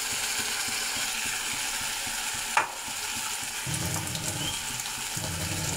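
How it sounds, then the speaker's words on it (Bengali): Masala spices fry in a pan while a cook prepares paneer, with a constant sizzle and scraping, stirring strokes; one sharp clack of the spoon against the pan rings out midway, followed by heavier sizzling. "এবার ভালো করে ভেজে নেব।"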